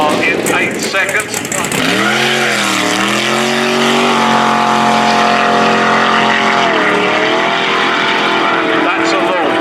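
A quarter-mile drag racing car's engine roars loudly at a launch during test and tune drags at North Weald, its pitch sweeping up and down as it revs and pulls away, with a voice talking over the noise.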